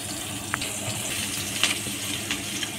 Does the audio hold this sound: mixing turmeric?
yes